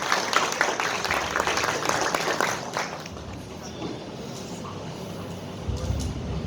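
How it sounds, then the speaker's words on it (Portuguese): Audience applause for a speaker at a lecture, dense clapping for the first few seconds that thins and fades into room noise and low rumble. "Mais uma vez, uma salva de palmas para o nosso palestrante."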